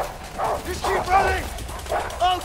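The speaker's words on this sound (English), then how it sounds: "Fucking dogs! Are you serious?" Dogs in the video game A Way Out bark and yip repeatedly in short, loud bursts while chasing, with excited shouting voices mixed over the barking.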